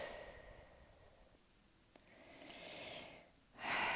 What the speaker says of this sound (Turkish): Nefes al, tut içinde ve boşalt.